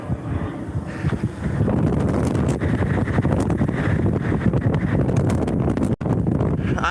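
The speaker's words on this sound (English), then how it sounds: "Wind's picking up." Wind gusting across a microphone on the Pillbox hike ridge in Oahu, Hawaii in the evening, a loud continuous low rumble with buffeting that swells after the first second, with no talking.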